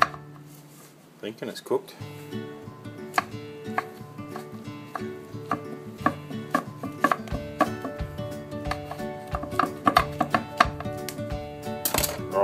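A knife chops through a ham, egg and tomato pie on a board, a run of sharp, uneven close cuts and knocks while someone talks briefly over them.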